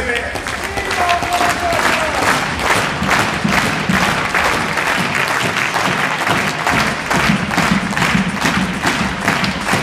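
A floorball match crowd claps steadily and loudly throughout, a dense rhythmic applause with a male announcer's voice heard briefly over it.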